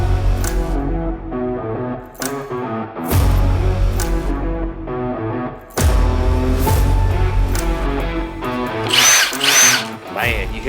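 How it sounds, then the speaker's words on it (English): A Milwaukee M18 1/4-inch impact driver runs in loud bursts, whirring and hammering in several long pulls separated by brief pauses, close up with no voices over it. "So today we have the Milwaukee 1/4-inch impact driver."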